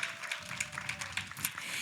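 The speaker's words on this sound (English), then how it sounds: "Let's give Miss Yaya a round of applause" A conference audience applauds a speaker, a short burst of steady hand clapping at moderate distance filling the room, with some murmur underneath.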